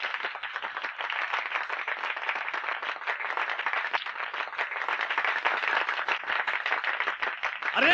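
A small crowd claps continuously in steady, quiet applause throughout, slightly distant and without a break.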